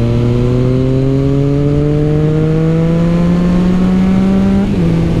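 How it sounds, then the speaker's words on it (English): A bus engine labours and revs steadily, its drone climbing slowly in pitch for several seconds before dropping back, loud and close throughout with no talking. "This bus is struggling."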